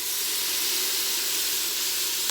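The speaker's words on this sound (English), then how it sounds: "Hopefully the steam doesn't get in your way too much, but it's got a nice brown to it." Steam hisses steadily from food browning in an Instant Pot, a broad, even, sizzling rush that carries on without a break. There is no talk.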